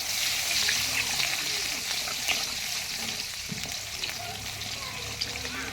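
Chopped onions frying with a steady hiss and sizzle while being stirred around the pan, with occasional soft scrapes. Continuous, fairly close, with no talking.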